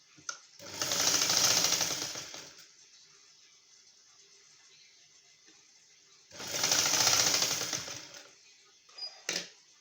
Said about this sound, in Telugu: దీనిపైన ఒక కుట్టు వేసుకుందాం